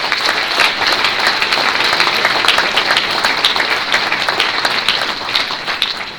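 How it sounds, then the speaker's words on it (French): A packed crowd at a public political meeting on pensions in Villeurbanne applauds loudly and steadily, dense clapping sustained throughout without a pause and nobody speaking over it. "je pense que vous pouvez vraiment les applaudir très fort"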